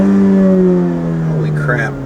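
Inside a 2017 Honda Civic 1.5 turbo fitted with an AF Dynamic cold air intake, the engine revs and then hangs as it slowly falls back, a steady droning tone close by, with someone talking over it.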